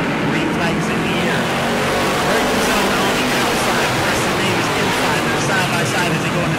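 A field of race cars at a weekly oval race at Auburndale roars down the back stretch toward turn three, a loud, continuous engine drone with a broad wash of noise throughout, with a voice talking over it.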